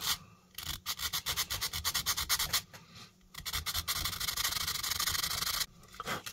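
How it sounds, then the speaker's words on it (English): Sanding with finer sandpaper by hand, rapid rhythmic back-and-forth scratchy strokes, close and fairly loud, with brief pauses between runs. "Then we're going to hit it with some finer sandpaper to kind of clean it up"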